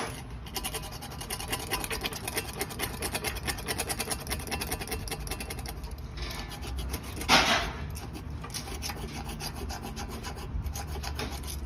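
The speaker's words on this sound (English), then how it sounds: "got my roller, and I'm gonna roll the patch nice and even" Steady rubbing and rasping from a hand roller pressed over a patch on a motorcycle tire, continuous and close with even strokes, one slightly louder pass near the middle, no talking.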